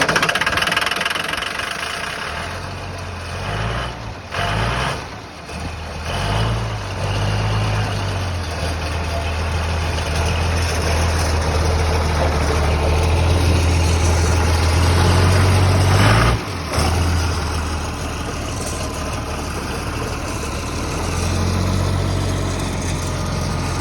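A front end loader's diesel engine cranks and catches on a cold start, then settles into a loud, steady idle with a deep knocking rumble and a few brief dips in revs.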